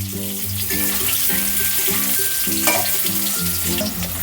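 Potatoes fry in oil for a homestyle katla fish curry, giving a steady bright sizzle under loud, rhythmic background music that plays throughout.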